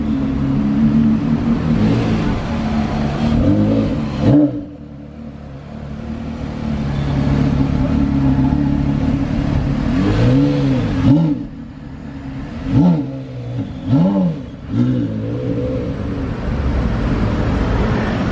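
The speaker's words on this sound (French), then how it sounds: "Voilà comment manœuvrer une Carrera GT." A Porsche Carrera GT engine revs repeatedly while the car is maneuvered, loud and close, with sharp rising and falling throttle blips over a steady engine drone.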